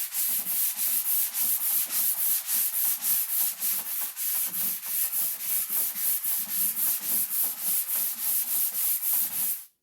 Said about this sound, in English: When I first started sanding this thing, YouTube, I started off outside with 80 grit, then I went to 100, 120, and this is 150.